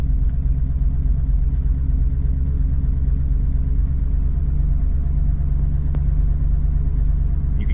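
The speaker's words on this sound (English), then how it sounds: "You can kind of hear the idle take off a bit" Low, steady rumble of a 1971 Ford Torino's 351 V8 idling with an auto-tune carburetor system switched on, a continuous loud engine drone close by, holding even throughout with no talking.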